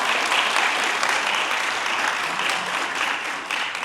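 Audience at an ACLU of Hawaii iftar dinner applauding members in the room, a dense, even round of clapping that holds steady and eases slightly toward the end.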